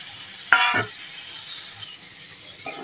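Taro pieces hit a hot frying pan with a sudden sharp sizzle and clatter, then settle into a quieter steady frying hiss with a later faint stir.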